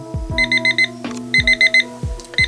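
A Braun BNC005 travel alarm clock beeps in repeated bursts of four quick electronic tones, close and clear, with clicks between the groups.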